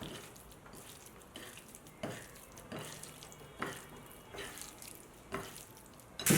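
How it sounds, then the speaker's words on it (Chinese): Chives are washed under a running kitchen tap in a sink, with a steady flow of water and repeated splashing surges as the stalks are handled, close and fairly quiet. "韭菜清洗干净"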